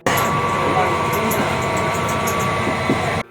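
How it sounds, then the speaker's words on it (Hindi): A fan runs inside an AC sleeper compartment of a Pakistan Railways train on the Shah Hussain Express, a loud, steady whir with a faint constant hum under the rumble of the moving carriage. "ये पंखे की जो आप आवाज़ सुन रहे हैं"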